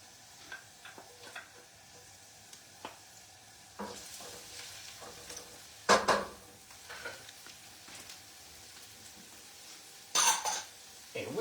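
Garlic and onion sizzling in a pan for pasta with chickpeas, a faint steady frying hiss with a few louder stirring scrapes and bursts, and occasional quiet sounds from the cook.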